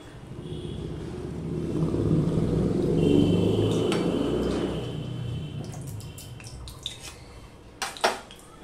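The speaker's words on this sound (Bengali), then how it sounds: "এবার দিয়ে দিচ্ছি সাদা তেল।" White cooking oil is poured into a hot wok, giving a rushing, splashy pour that swells and fades over several seconds, followed by a few small clinks and taps.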